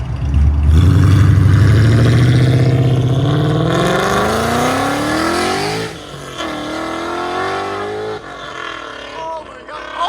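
Supercharged 675hp Roush GT engine revving hard with Valvetronics valved mufflers open, a loud, close, aggressive exhaust roar rising in pitch over several seconds, then settling into rumbling blips, with a voice talking over it.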